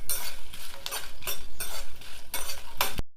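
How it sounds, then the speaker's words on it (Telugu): Dry red chillies frying in a small amount of oil for a ground chutney, with a spoon stirring and scraping the pan in repeated strokes over a steady close sizzle. "కొంచెం ఆయిల్ వేసుకొని వేయించుకుందాం"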